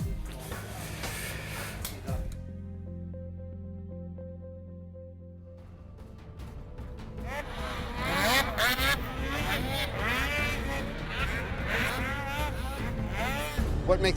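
Snowmobiles race on a snocross track, a low engine drone that gives way to loud, rising and falling revs from several machines passing, with a commentator talking over them.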